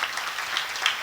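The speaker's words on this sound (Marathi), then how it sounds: "एकदा त्याच्या करता टाळी वाजवा मला." A crowd at a kirtan gathering gives a brief, lively round of applause, many hands clapping together in a dense, steady burst with no talking.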